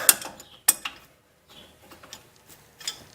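An adjustable wrench working on a tight ball joint of a Ford F-250 truck gives a few sharp metallic clicks and ticks, close up and spaced unevenly, separated by near silence.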